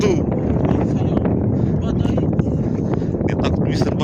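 Strong wind buffeting a small fishing boat at sea during a sudden squall, a steady broadband roar with microphone wind rumble that persists loud and unbroken throughout.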